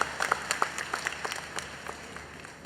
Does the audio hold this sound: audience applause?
yes